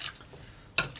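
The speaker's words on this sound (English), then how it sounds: "So let's just fold and stir this thing a few more times." A peach and sugar mixture for a Bellini being stirred and folded: faint, soft scraping, then one brief, sharper clink or scrape near the end.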